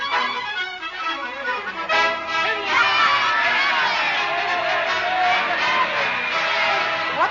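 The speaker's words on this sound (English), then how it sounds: "Haven't you ever been to a political rally before? They'll yell at anything." A political rally crowd yelling and cheering, a dense, loud roar of many voices that swells and keeps going throughout, with shouts rising out of the mass.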